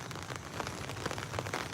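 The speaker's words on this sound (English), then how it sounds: "And you're going to be hearing the rain." Rain falling on a garden umbrella, a steady close patter of drops on the fabric canopy with scattered louder taps, no talking.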